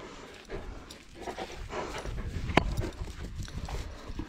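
A dog pants hard and runs on the ground while playing fetch outdoors, with quick rhythmic breaths and scrambling footfalls and a sharp thump partway through, close by and with no talking.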